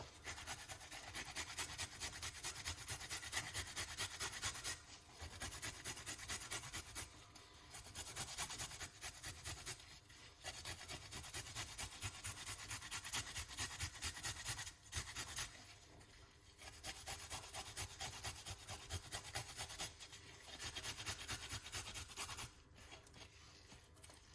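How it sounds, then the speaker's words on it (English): A small piece of ginger is grated by hand in a kitchen, a faint close-up rhythmic rasping in repeated bursts of strokes separated by brief pauses. "Gonna grate a little piece of a ginger."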